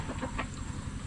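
Chickens cluck softly among the laying hens at a farm, a few brief calls over a low steady background rumble.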